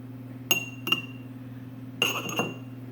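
A drinking glass used for a chlorine test clinks four times in two pairs of bright, ringing taps. Each tap decays quickly over a steady low hum, and nobody speaks.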